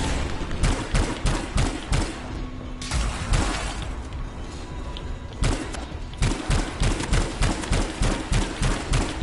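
Shotgun fire in the game Anthem: a dense run of rapid, punchy blasts and thuds, loud and close, broken briefly by a short lull.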